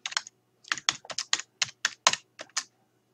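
Computer keyboard typing alone: about a dozen crisp, close key clicks in quick irregular bursts, with a short pause after the first few strokes.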